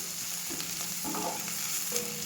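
Green chillies fry in a pan with a steady, close hiss of sizzling oil and a few faint soft bumps, with no voices.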